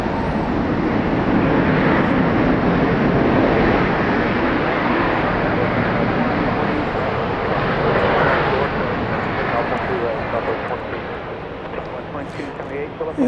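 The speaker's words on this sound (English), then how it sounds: "Arriving from Orlando, 737-800, flight" Broadband roar of a Boeing 737-800 landing at Dallas Love Field after a flight from Orlando, sustained and fairly loud for the whole stretch, easing slightly toward the end, with faint talk underneath.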